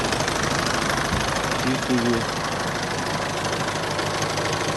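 An Isuzu 4JJ1T diesel engine from a Japanese-market truck with 138,000 km idles steadily with a dense, even knocking hum throughout, while someone speaks briefly over it.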